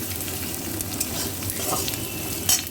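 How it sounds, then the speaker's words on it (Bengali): Onion and garlic fry for a vegetable momo filling, crackling and hissing in a pan with scraping stir strokes and a sharper clatter near the end. "পেঁয়াজ দিয়ে ভালো করে নাড়াচাড়া করবেন।"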